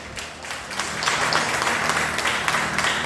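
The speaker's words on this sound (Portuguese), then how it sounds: "Você pode aplaudir a Ele." Worshippers at a Portuguese-language church service break into applause that swells after the first second, a thick, continuous patter of many hands with low organ-like notes sustained beneath.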